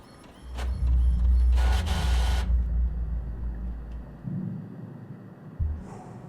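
A printer inside the horror game The Mortuary Assistant runs with a loud, steady mechanical whir and a burst of harsher buzzing, then winds down into quieter clicks and thumps, with no talking.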